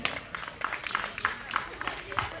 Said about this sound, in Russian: Хлопаем, хлопаем все.